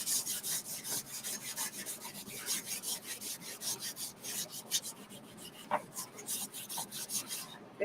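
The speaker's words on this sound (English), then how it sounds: "I'm going to use the wax applicator. It's a little dirty, that's why I switched to a microfiber cloth" Microfiber cloth rubbing wax onto a wooden sign in quick repeated back-and-forth strokes, a soft close-up rasping scrub with a steady rhythm.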